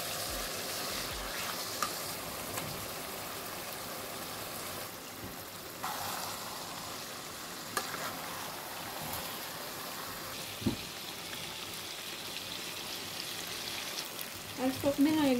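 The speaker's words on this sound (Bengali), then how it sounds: "মশলাটারে কিছু সময় কষাইয়া এখন দিয়ে নিলাম চিকেনগুলো।" Chicken pieces sizzling in a pan of cooked-down spiced masala with mango pickle and liquid milk, a soft, steady fry with faint stirring and clinks, fairly quiet throughout.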